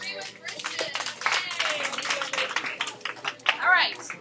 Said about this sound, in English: everybody clap if you agree with Christian.